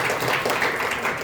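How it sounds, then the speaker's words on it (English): An audience at a spiritual lecture claps for a girl, a brief burst of mixed crowd applause, fairly loud and dense, with no talking over it. "You can clap for this girl."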